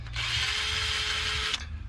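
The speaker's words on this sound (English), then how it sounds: "Let's get this dumb drill bit out of here." A cordless power drill whirs at speed for about a second and a half, close and steady, then cuts off abruptly, with light handling noise before and after.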